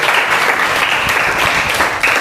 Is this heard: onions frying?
no